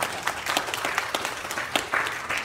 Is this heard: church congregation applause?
yes